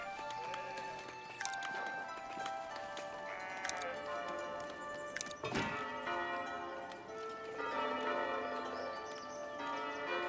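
A church bell tower rings repeatedly in the building game Foundation, layered over bright clinking tones, ticking and continuous game music, with no clear talking.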